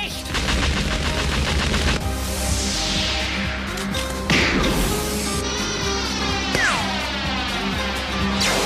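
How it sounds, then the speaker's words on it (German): Relentless rapid gunfire and explosive bursts from an animated battle fill the whole stretch, layered with whooshing projectile sounds and metallic impacts, loud and dense without pause. "Sie hat meinen Kugelhagel mit nur einem einzigen Schuss abgewehrt."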